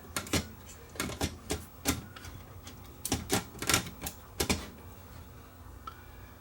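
Sony DSR11 DVCAM video deck mechanism loading a tape, giving a series of sharp mechanical clicks and clatters in irregular bursts, close and fairly loud with quiet gaps between.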